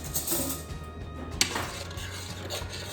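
A spoon works through thick, creamy homemade mac and cheese sauce in a pot, giving soft scraping strokes with a few clinks against the metal, close and moderately loud, with no talking.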